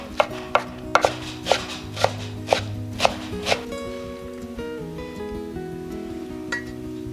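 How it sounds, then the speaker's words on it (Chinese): A knife chopping napa cabbage on a board, about nine sharp, evenly spaced cuts in the first half, then quieter handling against a steady background hum, no speech. "把250克大白菜切碎备用。"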